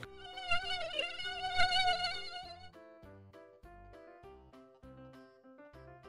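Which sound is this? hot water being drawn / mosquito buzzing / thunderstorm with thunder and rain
mosquito buzzing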